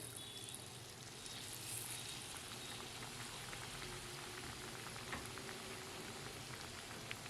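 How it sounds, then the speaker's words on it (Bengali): Batter-coated bread pakora deep-fries in hot oil with a steady, faint, rain-like crackle and hiss that runs evenly throughout, without pause or voices. "ব্যাটারে কোটিং করে গরম তেলে ছেড়ে দিতে হবে"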